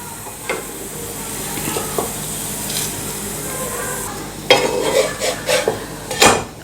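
A methi and wheat-flour paratha fries in ghee on a pan with a continuous close sizzle. Louder scraping bursts from a spatula turning and pressing it come toward the end, and no one speaks.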